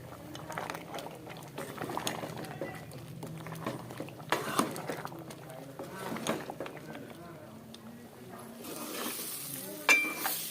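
Salt is stirred into meat cooking in a hot pan, with steady sizzling and bubbling under scraping spoon strokes, while someone talks throughout, close up.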